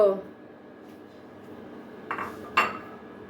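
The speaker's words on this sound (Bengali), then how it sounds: "এখন এই যে কড়াইটা দিয়ে দিলাম চুলায়" A wok is set down on a lit stove, giving two short metallic clanks close by near the end, after a voice at the start and over a faint steady background hum.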